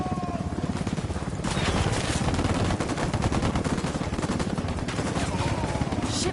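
A sustained barrage of automatic gunfire in the video game Ghost Recon Wildlands: rapid, continuous rattling from several weapons at once, loud and unbroken throughout.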